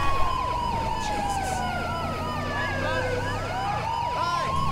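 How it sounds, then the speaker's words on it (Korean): Police sirens in GTA V's police mode, on a Hyundai Staria SWAT van, wail loudly and continuously, with several sweeping siren tones overlapping throughout and no talk. "사이렌 소리가 들리지 않는가?"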